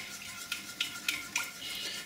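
Spoon stirring stock into a toasted flour-and-butter roux in a pan to form a sauce for a turkey and leek filo pie, four soft metallic scrapes at a steady pace over quiet kitchen background.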